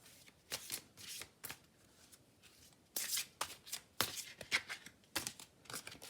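Tarot cards being shuffled and drawn, with crisp riffling bursts and soft card slides coming in irregular clusters, close and fairly quiet, with no one speaking.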